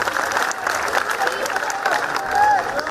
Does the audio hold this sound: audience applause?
yes